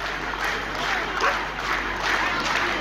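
A street crowd applauding, a steady wash of clapping and murmuring voices that holds at an even, fairly loud level throughout with no clear pauses.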